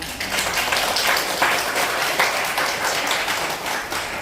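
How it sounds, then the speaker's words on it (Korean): Audience at a district library lecture applauds steadily to welcome a guest lecturer, a dense, even wash of many hands clapping without pause, with no talk over it. "그럼 이경원 선생님 박수로 한번 맞이해 주십시오."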